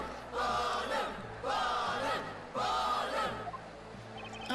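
Crowd shouting in a courtroom in the Professor Layton vs. Phoenix Wright video game, three loud swelling bursts of massed voices rising and falling over a low music bed.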